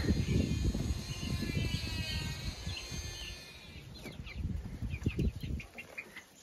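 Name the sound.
chickens in a shed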